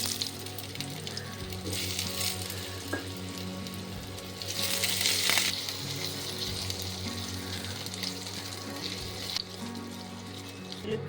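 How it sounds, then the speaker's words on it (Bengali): Small potato pieces fry in oil with whole cardamom, cinnamon and cumin, giving a steady close hiss and sizzle that swells briefly midway, with no speech. "একটা মাঝারি সাইজের আলু এরকম ছোটো ছোটো টুকরো করে কেটে রেখেছি এগুলো একটু ভেজে নেবো"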